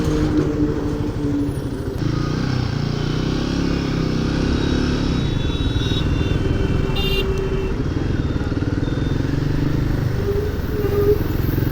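A Royal Enfield Himalayan 450 motorcycle rumbles low and steady while being ridden through a U-turn, its engine note holding close and continuous with small shifts in throttle.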